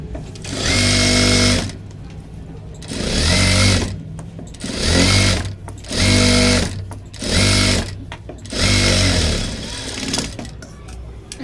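Domestic sewing machine stitching a blouse seam, running in six loud bursts of rapid mechanical whirring, each a second or so long, separated by short pauses with faint background noise.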